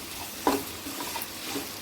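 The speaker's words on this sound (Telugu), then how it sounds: "పచ్చివాసన పోయే వరకు అల్లం చిన్నులపాయ పేస్ట్ కూడా ఈ ఆయిల్లో వేగాలి." Ginger garlic paste frying in hot oil, a steady close sizzle with a sharp scrape of a spoon stirring the pan.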